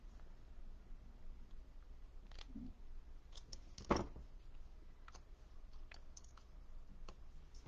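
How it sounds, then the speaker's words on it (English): Scissors snip through a paper tag in one sharp, close cut midway, with a few faint clicks and quiet handling noises around it in an otherwise still room. "we'll just trim off a little. Cut in the center."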